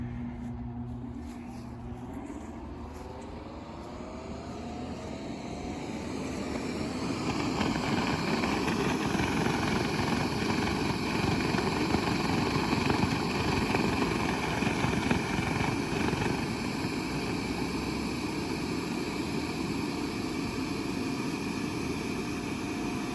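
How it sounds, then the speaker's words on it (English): 350-watt electric blower running steadily to inflate a 24-foot outdoor projector screen, a constant whirring motor hum and rushing air that ramps up after a few seconds and then holds loud and even. "The 350 watt blower was 80 decibels for about 3 feet away."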